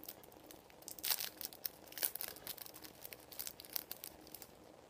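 Plastic packaging crinkles and tears as pendant crystals are unwrapped, a soft, close, irregular rustling with a few sharper crackles, alone and fairly quiet.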